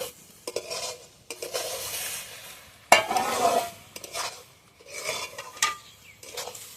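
Semolina halwa with milk and coconut being stirred in a pan, repeated scraping strokes of a spoon in uneven bursts with short pauses, close and fairly loud, with soft sizzling.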